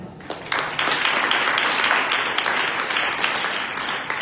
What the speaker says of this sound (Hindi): आइए तालियां बजाएं।